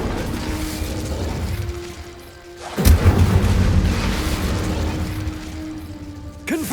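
Spell blasts and fire bursts from Hogwarts Legacy gameplay: a deep rumbling boom swells near the midpoint and carries on, with a sharp crack of a second blast at the end over a low magical hum.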